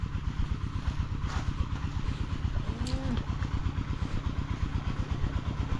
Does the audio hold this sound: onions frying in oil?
no